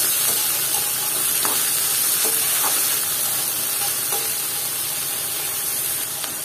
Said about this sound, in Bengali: মাঝখানে আমি শুটকিটা ভালো মতো তেলের মধ্যে ভেজে নিচ্ছি।